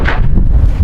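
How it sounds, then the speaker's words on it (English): Low, rumbling wind buffets the microphone in a steady roar with no other sounds. "it's really windy today"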